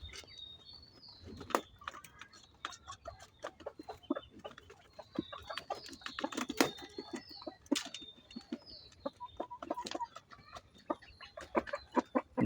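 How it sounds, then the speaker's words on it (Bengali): A white rooster and a white hen cluck close by on a farm, soft irregular clucks and short calls scattered in uneven bursts with light clattering between them. "সাদা কাপল দুইটা, সাদা রাতা এবং সাদা মুরগি"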